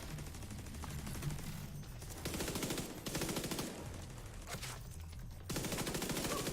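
Automated turret fire in The Division 2 shooter game: sustained rapid machine-gun bursts, loud and dense, broken by a few short gaps before the firing resumes.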